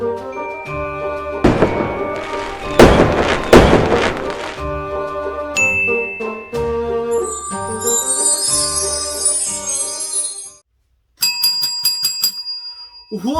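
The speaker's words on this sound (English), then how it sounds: "whenever I ring this bell, it's because we have new receipts that just came in." A hand bell rung close and loud, bright metallic ding and jingle tones with ringing overtones, in several bursts separated by thuds and a brief silence.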